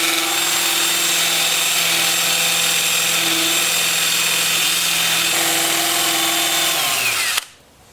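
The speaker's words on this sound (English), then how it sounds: "And then I'll go to my 2-inch disc sander, starting at 180 grit also, and sand up through 400 on the inside." A 2-inch disc sander on a power drill sanding the inside of a turned dogwood wood dish, a loud steady high whine that holds evenly for about seven seconds before the motor cuts off abruptly.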